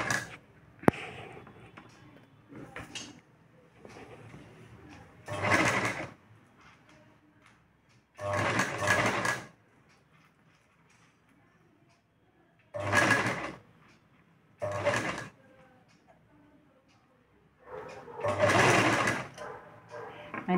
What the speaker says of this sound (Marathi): आता यानंतर आपण आपले टक्स मारलेलं शिवून घेऊ आता